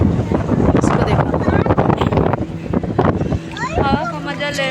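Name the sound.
cold wind blowing at Patna riverside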